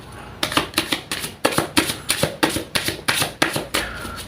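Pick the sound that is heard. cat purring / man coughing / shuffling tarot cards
shuffling tarot cards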